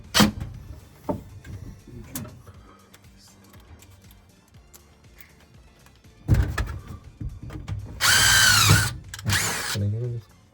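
Power drill unscrewing screws from an old leaky R22 condenser unit, heard as two loud whirring bursts near the end, after scattered clanks and handling noise, with people talking nearby.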